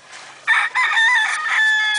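A rooster crows nearby, one clear drawn-out crow rising after a brief break and holding steady, loud over a quiet farmyard background.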